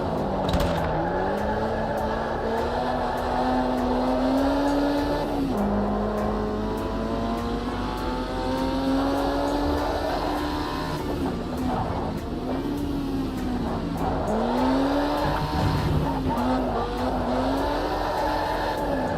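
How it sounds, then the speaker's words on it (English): A race car drifting in a racing video game, its engine droning steadily throughout while sweeping, wavering tire squeals rise and fall over it. "Let's do some drifting."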